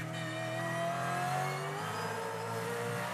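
Onboard engine note of a Supercars race car at the 2023 Newcastle 500, exiting a corner: a steady, loud, high-revving whine with rising harmonics, continuous and without talk.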